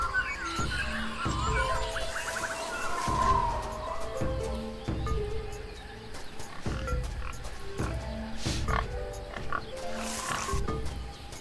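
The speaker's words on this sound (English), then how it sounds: "Pigs." A pig grunts in repeated low, rough pulses, roughly one every second, close and moderately loud over an outdoor animal background.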